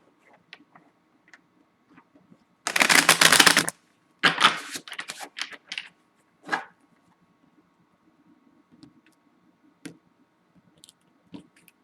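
Quick bursts of tarot cards being shuffled, a long riffle followed by several shorter flutters and a few soft taps, close and alone.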